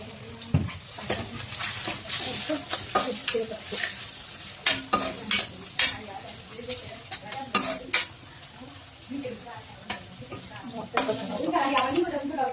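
Spices fry in a pan for homemade noodles with a soft sizzle, while a spoon stirs and scrapes in repeated bursts, close by and moderately loud.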